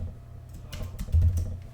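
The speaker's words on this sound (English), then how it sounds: "So if I type" Quick bursts of keystrokes on a computer keyboard, close and crisp, a short run of taps with a denser cluster near the end, no talking.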